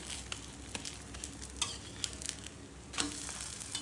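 Dosa frying on a hot pan with sesame oil poured over the top, giving a steady close sizzle broken by faint ticking pops, no voices.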